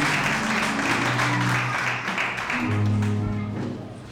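A church congregation applauding together, a dense steady clatter of many hands lasting the whole stretch, with voices and some sustained tones mixed underneath.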